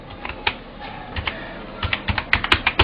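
Account details are typed on a computer keyboard, close and clear, with quick irregular key clicks that speed up into a dense burst toward the end and no voices.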